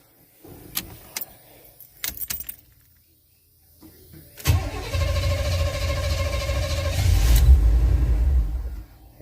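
Keys jangle and click in a car's ignition, then the engine cranks and turns over with a steady churning rumble for several seconds while its fuel pump is being tested.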